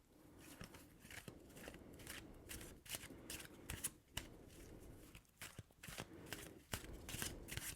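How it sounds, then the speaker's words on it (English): Tarot cards being picked up and shuffled up close, a run of soft papery riffles, taps and slides in irregular quiet bursts with no talking. "I'm going to grab the cards again"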